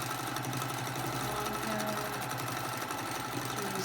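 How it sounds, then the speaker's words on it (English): Sewing machine stitching free-motion swirls on a Cutie quilting frame, a steady, continuous motor hum with rapid needle chatter running close and loud throughout, no talking. "I'm just swirling and making sure I get all the spaces quilted."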